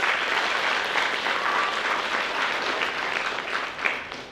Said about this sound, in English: a big round of applause for our panelists on the stage